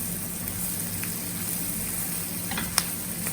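Stuffed okra (bharwa bhindi) frying in a pan over a high flame, a steady close sizzle with faint scraping and one sharp tap of the stirring spoon near the end.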